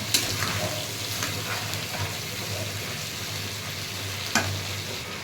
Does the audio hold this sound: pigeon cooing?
no